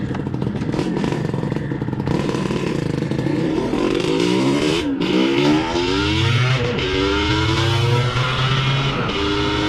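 A Yamaha RXT135 two-stroke motorcycle pulls away, its raspy engine revving loud and close, rising and falling through gear changes with a buzzy high-pitched whine and no talk.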